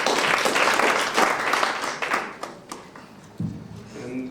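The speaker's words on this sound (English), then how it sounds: "I think we also have to give you another big round of applause." An audience applauds, a dense wash of clapping that gradually thins out into scattered claps before fading.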